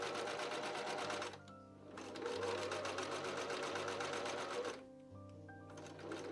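A sewing machine runs in close, fast bursts while stitching the lining and fashion fabric of a Victorian waistcoat together along the bottom edge, with brief pauses between runs.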